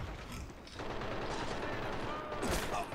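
A sniper rifle shot in the video game Valkyrie, a quiet sharp crack against a dense, noisy mechanical background of game sounds and distant gunfire.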